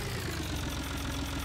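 A Fiat tractor in a farming simulation game idles with a steady, low, even engine drone, close and constant throughout, with no talk over it.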